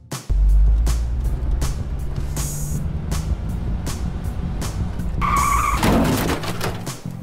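A toy Playmobil car skids and crashes, giving a loud sustained rush followed by a sharp squealing, clattering burst near the end, with no talking.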